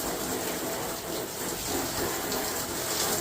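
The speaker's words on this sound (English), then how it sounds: "I'm just spraying over the shocks to get all the dust off of the shocks" Steady broadband hiss of a water spray washing dust off the arms and tires of a Traxxas Summit RC car, continuous and fairly close with no pauses.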